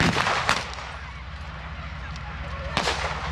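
Artillery fire at a reenactment battle show, two booming blasts about two seconds apart over a constant background rumble, distant-sounding, with a voice partly underneath.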